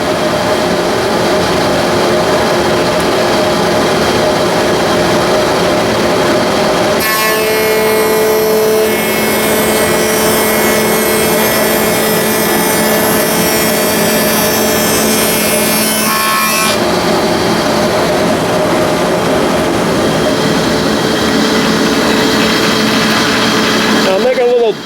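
Woodworking machine runs steadily through a walnut molding for about ten seconds, a loud broadband cutting roar with a tonal whine, set between stretches of lower shop machine hum.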